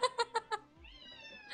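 A cat meows four times in quick, evenly spaced bursts, close and clear, followed by a softer drawn-out trailing tone in a quiet room.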